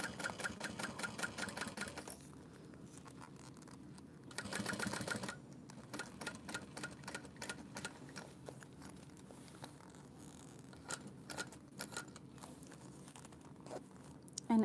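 A sewing machine stitches through fabric layers in rapid mechanical bursts of needle clatter. The bursts are broken by short pauses and a brief louder run, quiet and close, with no talking.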